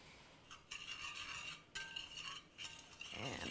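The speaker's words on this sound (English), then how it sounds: "I combine my sugar and cornstarch in my pot, and I give that a little whisk" Sugar and cornstarch whisked together in a pot, giving a run of quick, scratchy strokes and light metallic scrapes in several bursts, close and fairly quiet, with no talking.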